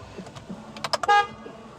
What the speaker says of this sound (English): The horn went, so we know the horn still works